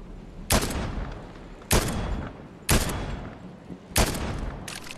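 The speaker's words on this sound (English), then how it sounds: "I shot the guy from midair." Four loud, sharp sniper rifle shots ring out in a video game at roughly one-second intervals, each followed by a short decaying tail, with no talking.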